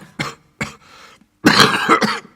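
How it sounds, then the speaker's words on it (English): A man coughs violently in several harsh, close bursts: two short hacks, a raspy throat-clearing rumble, then a longer run of heavy coughing. "Suddenly the miner began to cough violently"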